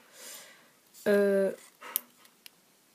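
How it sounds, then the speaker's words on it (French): A single sharp dog bark or yelp rings out, loud and close, between stretches of soft talking during a polymer clay tutorial. "Désolée, c'est mon chien."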